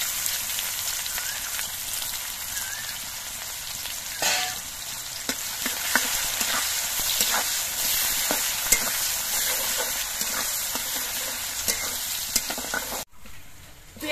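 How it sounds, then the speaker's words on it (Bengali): Chopped onion sizzling in hot oil in a pan while being stirred, a loud continuous frying hiss with scraping stir strokes, ending with an abrupt cut near the close. "পেঁয়াজগুলো একটুখানি নাড়াচাড়া করে ভেজে নিয়ে"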